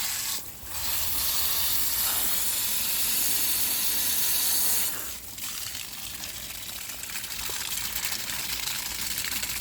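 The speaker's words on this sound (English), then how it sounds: "we just kind of blast it with the hose" A garden hose blasts water onto an aquarium sponge filter in a loud, steady rushing spray. It breaks off briefly near the middle and then resumes slightly quieter, close up with no talking.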